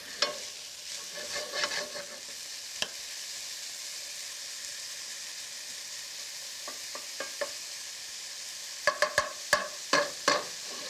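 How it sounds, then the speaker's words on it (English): Bacon sizzles steadily in a hot pan, a constant close frying hiss broken by clusters of sharp utensil scrapes and taps as it gets stirred, busiest near the end. "So all of the bacon hits the heat of the pan."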